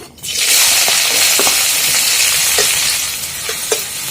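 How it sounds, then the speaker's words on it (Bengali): Chopped onion frying in hot oil with peppercorns and cinnamon for dhaba-style masoor dal egg tadka, a loud, dense sizzle that rushes up at once and holds, with occasional soft stirring knocks. "পেঁয়াজটাকে প্রথমে হালকা বেজে নিব"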